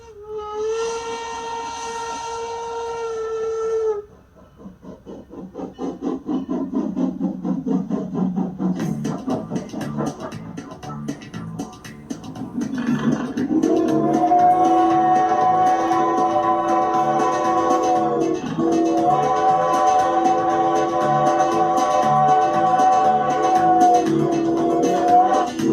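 A former Norfolk and Western steam locomotive on the Strasburg Railroad sounds a loud sustained whistle, then chuffs as it gets under way, and the whistle blows again in long tones over the running train.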